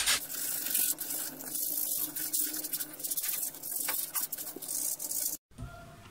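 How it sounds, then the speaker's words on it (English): Sandpaper rubbed back and forth along the edge of a Styrofoam piece for a small rubber-band-powered model plane, a close, steady scratchy rasping in repeated strokes that cuts off abruptly near the end. "Now you want to use your sandpaper to sand it so that you get a neat edge."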